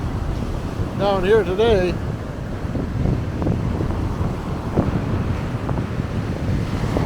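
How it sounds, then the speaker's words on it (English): Gusty wind on a blustery, stormy day near the surf rumbles and buffets the microphone steadily throughout, with a voice speaking briefly near the start. "kind of a blustery day"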